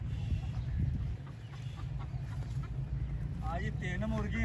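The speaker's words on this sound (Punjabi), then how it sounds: "ਜੀ 3 ਮੁਰਗੇ ਆ ਜੀ ਆਪਣੇ।" Roosters at a rural farmstead where three are kept give a clucking, crowing call toward the end, over steady outdoor background noise with voices nearby.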